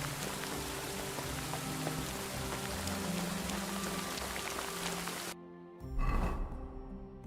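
Steady, dense rain in Kingdom Come: Deliverance II patters loudly on surfaces for several seconds, then cuts off abruptly, followed by a brief rushing burst.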